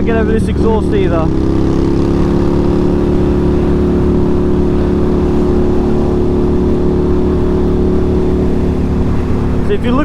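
Indian FTR 1200 motorcycle with aftermarket exhaust idling and rumbling loudly and steadily up close, with a brief throttle blip at the start and a voice speaking over it.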